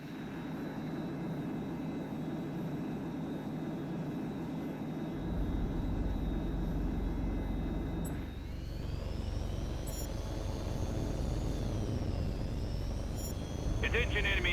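Fighter jet engines drone in Tom Clancy's H.A.W.X 2, a continuous whooshing roar that deepens and swells partway through and shifts again later, staying loud throughout.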